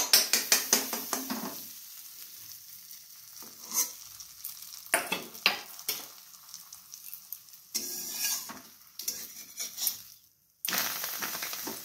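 A butter paratha frying in a hot kadai gives a broken crackling sizzle, interrupted by clicking and scraping bursts of handling, with brief near-silent gaps.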